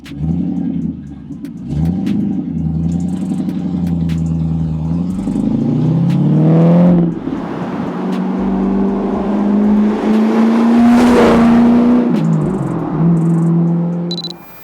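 A prototype TVR car engine idles and then revs up hard several times, with rising and falling pitch and a loud, throaty exhaust close by, with no talking over it.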